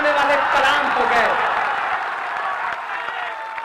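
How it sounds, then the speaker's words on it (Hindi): A large audience applauds at a poetry recital, dense clapping that starts loud and gradually thins and fades, with voices mixed into the crowd noise. "अब आपकी तालियां बजे"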